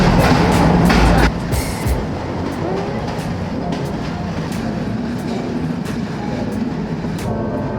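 A narrow-gauge electric train carriage rolling toward the New Athos cave station, with a steady rumble and clickety-clack of wheels throughout and a louder burst at the start, heard from inside the car.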